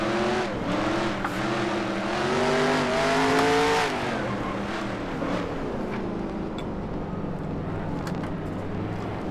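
Car driving a test track in the Automation video game, a loud, sustained engine whine that climbs in pitch and then drops off as it eases through a turn, with faint tire scrub and no talk.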